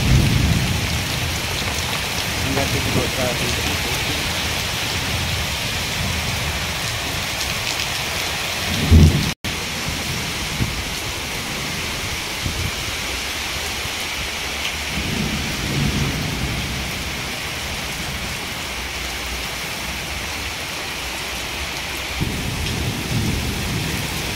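Steady heavy rain pours throughout a windy thunderstorm in Kalahandi, Odisha, with a sharp, loud thunderclap near the middle and low rumbling that rises and falls around it.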